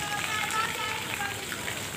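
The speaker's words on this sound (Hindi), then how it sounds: "हो रही है अभी बारिश" Steady hiss of rain falling, a dense, even patter throughout with faint voices underneath.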